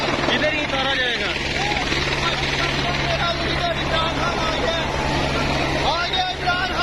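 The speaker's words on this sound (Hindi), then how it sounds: "ये हेलीकॉप्टर इधर ही उतारा जाएगा।" A helicopter carrying a political leader comes in to land at a highway interchange, its steady loud rotor and engine roar filling the scene throughout while someone talks over it.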